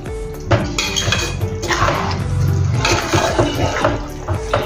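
Spoon stirring guar bean sabzi with salt and garam masala in a pan, a steady near scrape and clatter of metal against the pan, with soft sizzling underneath.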